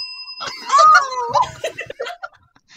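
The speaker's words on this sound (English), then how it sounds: "When did you get a bell?" A small bell on a magical item shop's door gives one short clear ring, then fades as people break into laughter and giggles.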